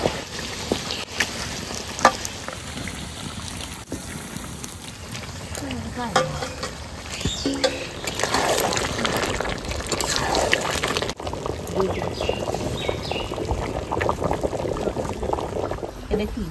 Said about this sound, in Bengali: তো মশলা কষানো হয়ে গেছে, এবার মাংসগুলো দিয়ে দেবো।